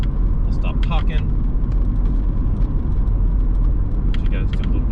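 A 1982 BMW E21 320is drives along with a steady, close in-cabin engine and road rumble, with faint rattles and a few brief voices over it.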